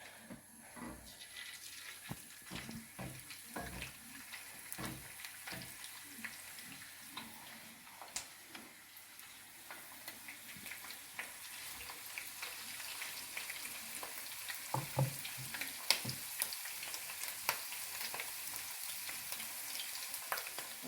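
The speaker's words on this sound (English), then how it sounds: "we're going to put the toast in face down, so prawn side down, and then we're going to fry for 1 minute on each side" Prawn toast frying prawn side down in hot olive or vegetable oil, giving a steady close sizzle and crackle with scattered pops and clicks throughout, no talking.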